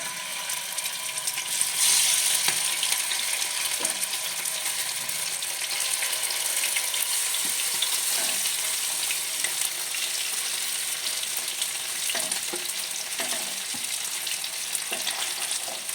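Chicken pieces fry in ghee in a pan with a steady, crackling sizzle, close and even throughout, with occasional scraping stirs and light clicks of a utensil, no voices.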